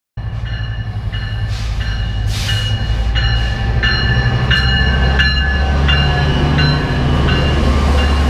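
A Metrolink 127 commuter train serving East Ventura runs loud and close, with a constant heavy rumble, steady wheel and rail noise and a string of tonal squeals and chimes above it.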